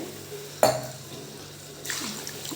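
A brief splash and clink as water is poured into a pan of country chicken curry, then a soft sizzling, bubbling wash of sound, fairly quiet and close.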